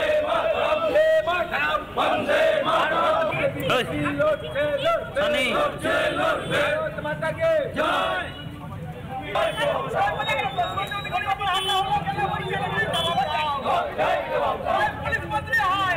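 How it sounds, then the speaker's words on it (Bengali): A street protest crowd, rallying against the ruling party, chants slogans in loud rhythmic unison, the many voices rising and falling over a constant background of crowd noise. "আমরা সেই স্লোগানগুলোও শুনতে পাচ্ছি যেখানে তারা ধিক্কার জানাচ্ছেন রাজ্যের শাসক দলের বিরুদ্ধে"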